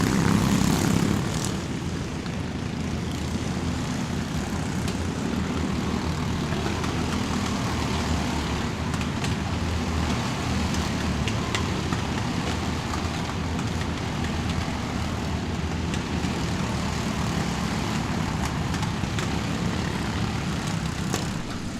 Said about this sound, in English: 60 to 70 karts total on track. So lap 1 is always a bit hectic.